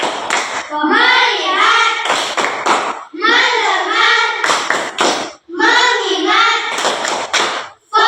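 A class of children chants the rhythmic Indonesian 'tepuk fokus' in unison, with sharp, loud, close hand claps falling between the sung phrases across three repeated cycles.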